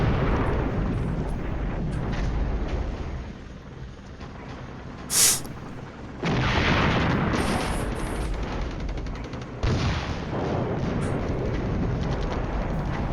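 A heavy 120mm mortar barrage rumbles through the Cold War wargame Flashpoint Campaigns, with dense, continuous booming explosions that briefly drop away and then surge back loud and close.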